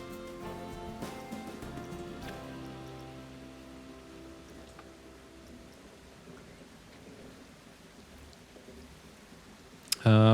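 Steady rainfall with thunder in the video game Planet Coaster 2, a soft continuous wash under quiet musical tones, ending in a sudden loud burst at the close.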